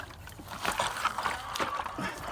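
Water splashes and sloshes in uneven gushes as it is poured out of a chicken drinker onto the ground, close by.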